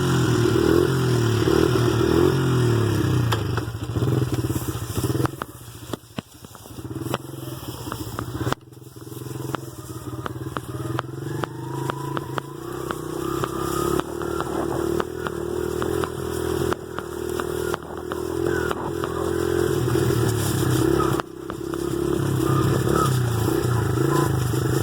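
Dirt bike engine running loud and steady for the whole stretch, out on a forest trail, with rough revving pulses and a brief dip in the middle.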